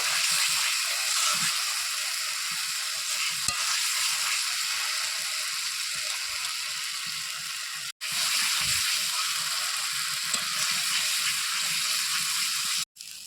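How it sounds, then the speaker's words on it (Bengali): Spice paste for a thin goat meat curry sizzles steadily in hot oil as it is sautéed in a home kitchen, a loud continuous hiss broken by two brief pauses. "মশলা ভালোভাবে কষিয়ে নেব যতক্ষণ না তেল ছাড়ছে ততক্ষণ পর্যন্ত"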